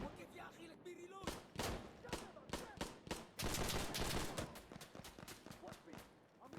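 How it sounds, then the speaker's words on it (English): Gunfire in the video game Insurgency Sandstorm: rapid, loud bursts of shots in clusters that nearly merge into sustained fire, with a voice speaking faintly between them. "I'm getting shot through a wall."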